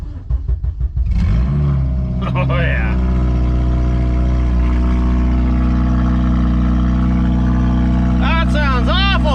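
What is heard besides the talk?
8th gen Honda Civic Si engine revving without exhaust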